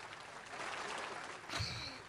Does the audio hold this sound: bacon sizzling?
no